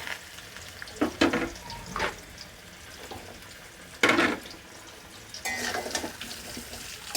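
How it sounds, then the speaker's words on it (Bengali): Potato and sweet potato pieces fry in hot oil for shukto, the steady sizzle broken by clattering stirs and scrapes in the pan, with loud bursts as the vegetables go in and are turned. "প্রথমে আলুগুলো দিয়ে দিচ্ছি, আর রাঙালু দিয়ে দিচ্ছি। সব সবজিটাই আমি ঢেলে দিচ্ছি"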